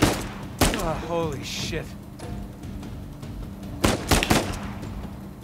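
Gunfire in the video game Uncharted 4: A Thief's End: several sharp shots and bursts crack loudly at the start and again near the end, with someone talking and exclaiming over the action.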